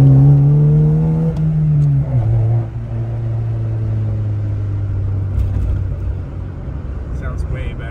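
A Honda Civic EF hatchback fitted with a Yonaka exhaust downshifts, its engine note dropping in pitch and then settling into a steady, loud droning rumble.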